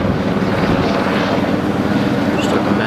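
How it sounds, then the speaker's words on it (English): Helicopter flying overhead near a port, a steady, continuous rotor and engine drone heard at a distance for a few seconds with no talk. "So there's a chopper up there."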